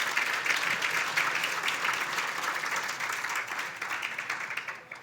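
A crowd at an awards ceremony applauds steadily, a dense wash of clapping that holds for several seconds, then begins to thin and fade toward the end.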